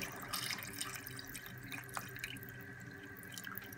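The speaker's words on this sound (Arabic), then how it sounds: "صب توا الماء" Water poured from a tap or jug into a Tunisian soup pot over fried ingredients, a quiet continuous splashing trickle with a few drips, heard fairly close and alone.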